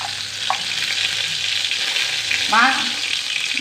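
Dried red chillies sputtering in hot oil for a chutney tempering, a steady loud close sizzle throughout with a brief utensil scrape, no talk.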